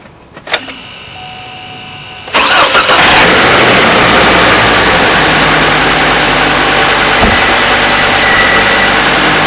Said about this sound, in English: I'm just going to start the vehicle